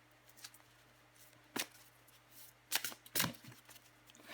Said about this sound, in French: Je vais encore tirer une carte pour vous, les béliers.